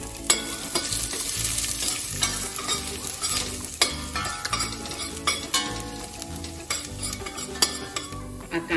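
Finely chopped garlic sizzles in hot oil as a tempering for Gujarati palak khichdi, a steady close frying hiss broken by stirring scrapes and light clinks of a spoon against the pan, with no talk.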